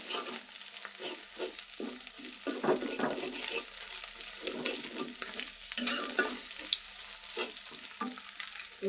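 Eggs fry in a pan before pasta is added, with a continuous crackling sizzle and frequent quick scraping stirs, close up, in a busy irregular rhythm.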